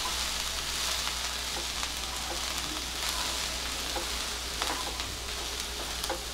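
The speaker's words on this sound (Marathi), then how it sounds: "हे आता सगळं आपल्याला मिक्स करून घ्यायचं" Pea and cabbage vegetable dish being stirred in a pan, a soft steady sizzle with occasional scraping clicks of the spoon, no talk.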